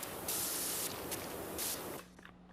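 Pressure washer water jet in PowerWash Simulator 2, a close, steady hissing spray in several short bursts that cuts off abruptly, leaving only a faint background hum.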